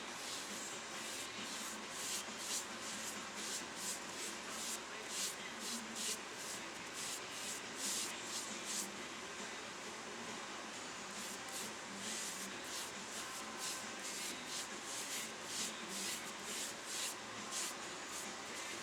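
Hand-applied second finish coat on a sycamore bowl, a steady rhythmic rubbing and wiping of cloth over wood, repeated in quick strokes for the whole stretch, close and fairly quiet.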